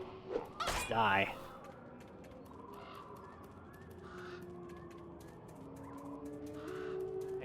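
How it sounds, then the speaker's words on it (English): Squawking chickens in the action RPG Deathspank, a loud burst of harsh cries near the start, then lower clucks and game sounds continuing under a steady background. "Vicious chickens."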